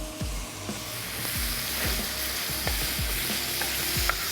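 Masala tempered with fennel and mustard seeds fries in pomace oil on a tawa for egg masala, giving a steady close sizzle with repeated scraping stirs of a spatula throughout.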